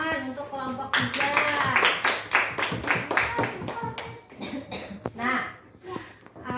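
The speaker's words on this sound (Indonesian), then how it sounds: "Tepuk tangan untuk kelompok 3" Classroom applause from a class of fourth-grade pupils for a student group, loud, irregular clapping that runs throughout with a crowded, busy texture and scattered voices mixed in.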